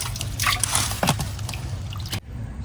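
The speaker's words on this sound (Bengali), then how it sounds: "তো এই চেম্বারের মধ্যে জল আছে, ভালো জল, মাংসটা ধুয়ে নেবো" Clean water sloshes and drips as raw chicken meat is washed in a container, with close wet squishes and splashes that stop abruptly near the end.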